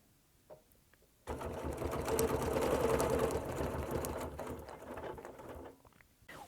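Sewing machine chain-stitching quilt rows along a ruler, running in a steady, close mechanical whir for about five seconds before stopping, with quiet handling sounds around it and no speech.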